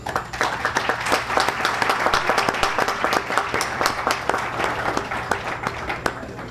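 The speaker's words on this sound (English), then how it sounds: "Please applaud Inspector Nanton." An audience claps at a security company's regional recognition awards ceremony. The clapping is dense and continuous at moderate loudness, a crisp patter that holds steady throughout.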